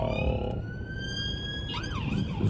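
A police siren wails past, its rising and falling tone sweeping clearly over low road rumble before bending sharply near the end as the vehicle goes by.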